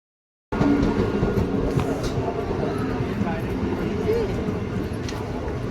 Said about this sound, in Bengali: দেখো আমাদের ট্রেন অলরেডি চলে এসেছে